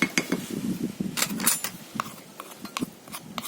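Metal and glass cookware clinks and knocks as a potato masher and pots are handled during cooking, with scattered short clatters and scrapes close by, a busy cluster early on, then sparser taps.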